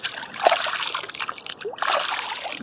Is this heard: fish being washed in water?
yes